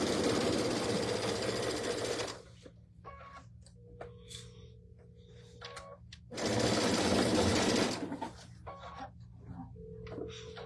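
A sewing machine stitches the last seam of a big-block quilt in two loud, steady whirring bursts, the first about two seconds long and the second after a pause with faint clicks and room sounds.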